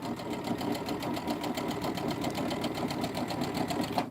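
Sewing machine stitching through three layers of a quilted zippy bag, a close, steady, rapid mechanical chatter of the needle running continuously without pause.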